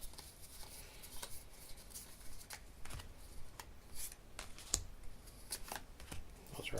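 Game cards riffle, snap and slide as they are shuffled and handled up close, a quiet run of crisp papery flicks and taps in an uneven rhythm with no talk over them.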